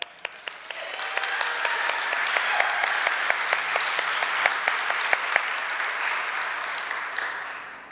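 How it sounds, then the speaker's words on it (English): A crowd at an award ceremony applauds steadily for several seconds, a dense wash of clapping with a few sharper, louder claps standing out near the front. "Clap for that."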